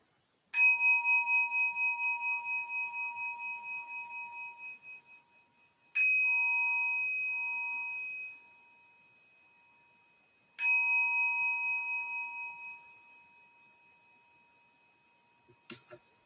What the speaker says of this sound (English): Listening to 3 bells.